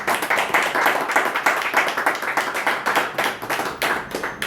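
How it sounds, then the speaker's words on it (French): An audience applauds at a tribute event, with steady rhythmic clapping and many hands sounding together close by. The clapping stays fairly even in loudness throughout, with no talk over it. "je vous demande de bien vouloir l'applaudir"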